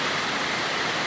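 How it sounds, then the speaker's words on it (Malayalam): Heavy rain pours down steadily in a cold hill setting, a dense, even broadband hiss with no breaks, loud and close throughout the short stretch. "മഴ എന്ന് പറഞ്ഞാൽ നല്ല മഴ"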